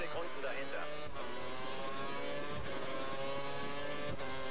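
Race car engine in the F1 2013 game at the Chinese circuit, a sustained high-pitched whine with steady harmonics and a few sharp gear-change dips, heard alongside talking.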